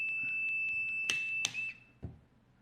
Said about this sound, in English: one thing that this meter also has is an alarm